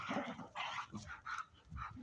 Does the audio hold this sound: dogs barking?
yes